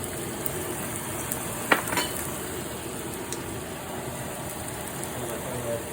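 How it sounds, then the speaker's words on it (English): Eggs frying in oil in a pan, a steady loud sizzle and crackle with a single sharp utensil tap and a few faint scrapes as they are stirred. "We'll get these eggs stirred up real nice."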